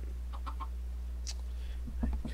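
A chicken in the video game Minecraft gives a few short clucks, soft and a little distant, over a steady low hum, with a brief bird-like chirp in between.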